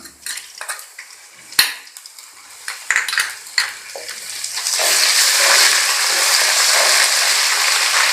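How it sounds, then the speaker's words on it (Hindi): Garlic-ginger paste goes into a pan of browned onions, with a few utensil clinks and scrapes followed by a loud, steady sizzle of frying that carries through to the end with no talking. "अब इसमें ये लहसुन अदरक का पेस्ट डालेंगे।"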